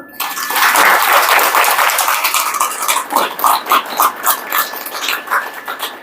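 Loud applause from an audience at a spiritual talk, dense at first and then settling into a rhythmic, unison clap that pulses steadily to the end.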